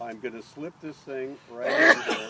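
A sneeze bursts out near the end, sharp and breathy, right after someone speaks during an outdoor orchard T-budding demonstration.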